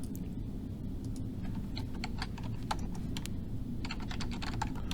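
Steady typing on a computer keyboard while renaming a group in SketchUp Pro, a continuous run of close, crisp key clicks over a low background hum, with no talking.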